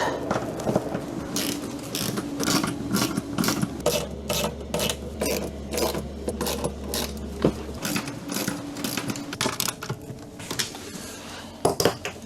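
A sailboat traveller bedded in butyl is tightened down with tools, giving a steady run of close metallic ratcheting clicks and clinks, with a few sharper knocks near the end.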